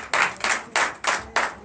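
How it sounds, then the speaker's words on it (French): A church congregation in Bénin claps in unison during a Sunday worship service, five loud, evenly spaced bursts of hand claps in a steady rhythm, close and with no talk over them. "Donne l'acclamation à Jésus."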